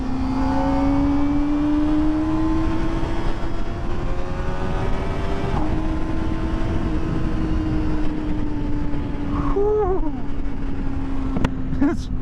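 A 2023 Kawasaki Ninja ZX-4RR motorcycle engine screams at high revs under riding wind noise, its steady tone climbing slowly, then a quick blip and rev change near the end.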